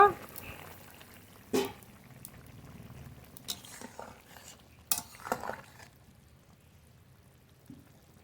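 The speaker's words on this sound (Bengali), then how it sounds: "ঢাকনা তুলে নেব" A metal lid is lifted off a pot of simmering cauliflower and fish curry on the stove, giving a sharp clank, then a second clatter a few seconds later over a low bubbling kitchen background.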